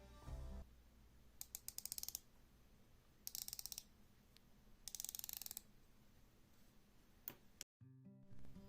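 The 120-click unidirectional bezel of a Coast Pacific Explorer watch turns in three quick bursts of fine, rapid ratcheting clicks, heard very close and crisp against a quiet background, with a few single clicks in between.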